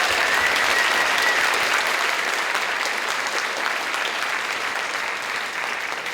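A large audience applauds steadily and loudly at a school community evening on college admissions, a dense, even clapping that fills the space for the whole stretch with no voices on top.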